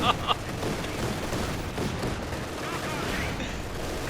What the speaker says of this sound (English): So many machine guns.